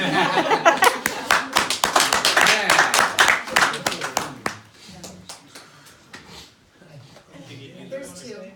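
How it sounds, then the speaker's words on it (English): An audience at a remembrance gathering claps in a loud burst of dense applause that thins out into scattered claps, with voices talking as it fades. "you don't have to clap"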